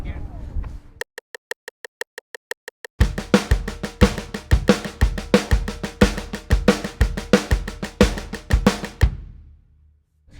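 A drum kit plays a triplet fill with accents, starting with a few light, evenly spaced hits and then breaking into a loud, dense run of strikes that lasts several seconds before stopping abruptly.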